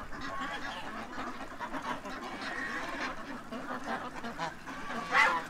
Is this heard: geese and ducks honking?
yes